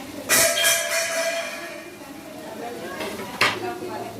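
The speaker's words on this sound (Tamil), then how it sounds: "நறுக்கி வச்சுருக்கேன் தக்காளியை போடுறோம்" Chopped tomatoes tumble into a metal cooking pot with a clatter, followed by a second knock of a utensil against the pot.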